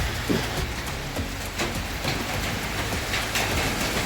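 Continuous rain hisses and patters on a shed roof, a dense, even downpour with occasional heavier drips, no voices.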